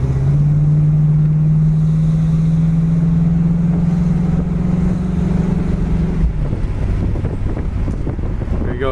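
A 1977 Pontiac Trans Am with T-tops cruising down a road, its engine holding a steady loud drone under heavy wind rush before the note shifts and drops near the end; no talking.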